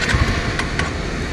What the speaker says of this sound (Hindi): आप देख रहे हैं बाइक स्टार्ट नहीं हो रहा है